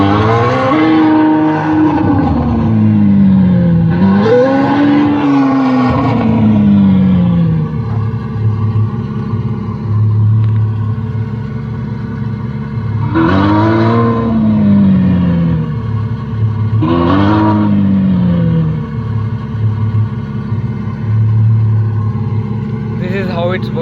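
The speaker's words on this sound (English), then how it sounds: "You can able to hear the sound, and let me accelerate." Car with an OBD-set sports exhaust sound option accelerating: a loud, continuous engine drone with several rising and falling revving sweeps, close and steady throughout.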